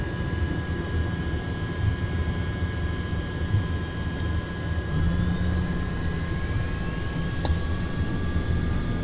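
Quest Kodiak turboprop engine starting in the X-Plane 11 flight simulator, a steady engine whine with a tone that rises slowly, plus a few faint clicks, and no talking.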